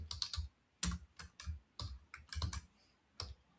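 Keys clatter on a computer keyboard in short irregular bursts of clicks, close and crisp, with brief pauses between keystroke clusters and no voices.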